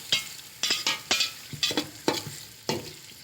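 Chicken curry frying in a pan and being stirred, a steady sizzle broken by about six sharp scraping strokes of the spoon at an uneven pace, close up with no talking.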